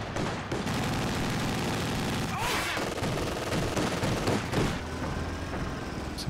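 Company of Heroes 2 battle with mortar shells and machine gun fire: loud, dense, rattling gunfire sounds throughout, punctuated by heavy booming impacts midway, with faint voices beneath.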